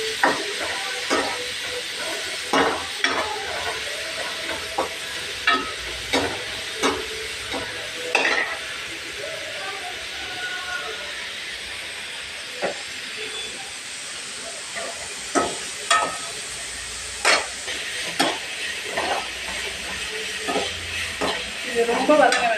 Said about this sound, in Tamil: இதெல்லாம் நல்லா வதக்கணும்.